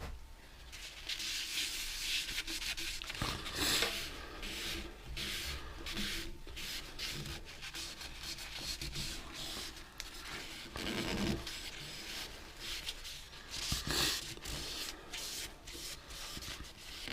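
Sanding sealer rubbed by hand onto a spalted beech lidded box on a lathe, soft continuous rubbing and scuffing strokes with occasional sharper scrapes, quiet and close.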